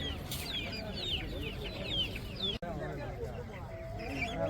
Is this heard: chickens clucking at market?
yes